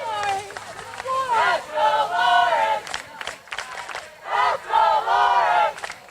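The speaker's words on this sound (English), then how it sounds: "Crowd cheering on the play." A crowd at a high school boys' varsity soccer game yells and cheers in loud swelling bursts, rising and falling in several waves over a few seconds.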